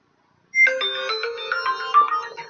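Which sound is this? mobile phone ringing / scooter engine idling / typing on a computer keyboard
mobile phone ringing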